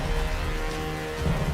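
Rain falls steadily in the Tomb Raider video game, a dense hiss of drops with a low rumble beneath, brief and loud.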